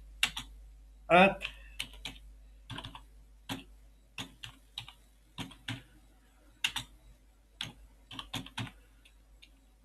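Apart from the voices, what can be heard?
typing on a computer keyboard in Vim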